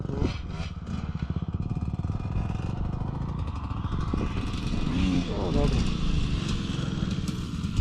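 A Honda CB motorcycle engine revs and rumbles steadily throughout, with a voice talking over the continuous engine noise.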